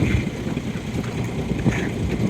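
Boat engine running on choppy grey water near an island in Queensland, a continuous rumbling drone mixed with wind buffeting the microphone and water splashing, loud and close throughout.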